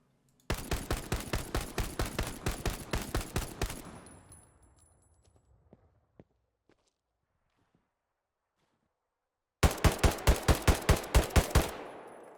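An M1 Carbine and a Gewehr rifle in Hell Let Loose fire rapid strings of loud, close single shots, each crack trailing a short echo. About a dozen regular shots come first, then a long quiet pause, then a second equally fast string.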